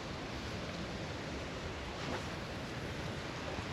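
Steady broadband wind rushing across a microphone while fishing on Tampa Bay, a constant close roar with a slight swell near the middle and no talk.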